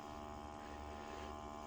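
Soft, steady hum from the motor of an ArOmis unit, running continuously and gently, alone without any talking.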